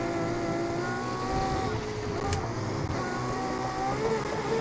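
Ferrari FXX-K Evo race car engine in the video game NFS Heat, a steady loud whine with shifting revs over continuous road roar, no speech.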